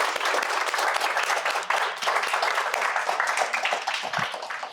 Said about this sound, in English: could we give our speakers another big round of applause?